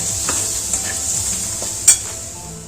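Spices sautéing in oil in a pan for a traditional Vidarbha vegetable dish, a soft steady sizzle with a few light utensil taps and one sharper clink near the end.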